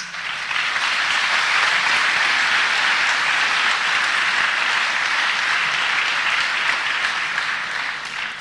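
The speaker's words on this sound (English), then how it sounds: "it should be me applauding you" Audience applause at a talk, a broad, full wash of many hands clapping that stays loud and even for over eight seconds with no speech over it.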